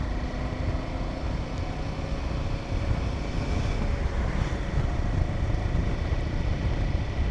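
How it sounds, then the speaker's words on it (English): A Himalayan 450 motorcycle overtaking on a coastal road, its engine a broad, steady roar blended with heavy wind rush across the whole stretch. "just like that, the Himalayan can overtake with ease"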